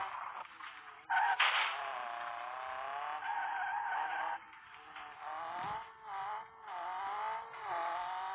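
A car in a racing video game skids under the handbrake, giving a sustained, loud tire squeal that wavers and surges over several seconds with brief dips, alone without talk.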